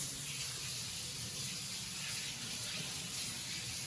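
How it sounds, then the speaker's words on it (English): Steady running tap water in a kitchen as fingers are rinsed during breadcrumbing for fish and chips, a quiet continuous wash with no other sounds. "I'm gonna wash my fingers because I need to load up again."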